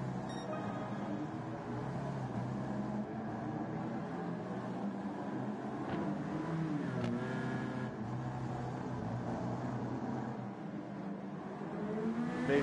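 Several simulated stock cars in a close three-car battle at Tsukuba in Gran Turismo 7, a steady layered engine drone running throughout at moderate level with no pauses.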